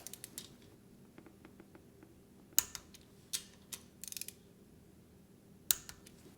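Tightening a valve adjustment nut on a Honda D-series engine in an EG hatch produces a series of faint metallic clicks and ratcheting ticks, with a few sharper clacks scattered irregularly over quiet background.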